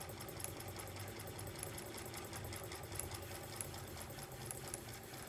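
A fur sewing machine stitches in a quiet, steady mechanical chatter with a fast, regular ticking rhythm that runs without a break at a faint, distant level.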